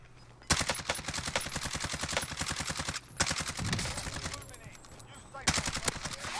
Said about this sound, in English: Those were some bad shots.